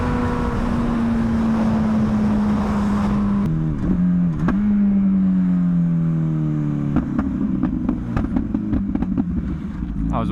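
An MV Agusta motorcycle engine idles and revs loudly up close at a bike meet, its pitch rising and falling, then a rapid series of sharp exhaust pops and crackles follows.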